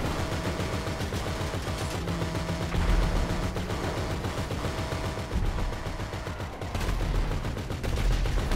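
Tank gunfire in Grand Theft Auto V, rapid continuous bursts of heavy shots roaring loud and close, with repeated booming impacts layered over the constant rattle.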